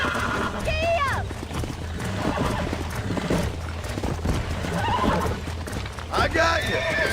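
Horse whinnies and clip-clopping hooves in the video game Red Dead Redemption, a rising neigh early and another near the end over steady hoofbeats and background music.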